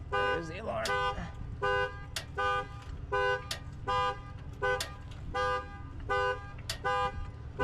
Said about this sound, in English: Ooh, there's the alarm.